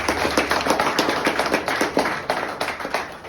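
A seated audience at a business seminar claps together in a steady, rhythmic beat, a fast run of even hand claps that fills the room without talk over it.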